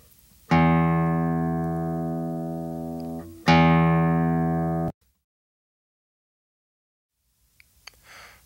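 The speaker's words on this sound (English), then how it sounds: "let me tune your guitar" Two classical guitar strings are plucked one at a time for tuning, each note ringing out loud and close and decaying slowly before the next, followed by near silence with a few faint stray noises at the end.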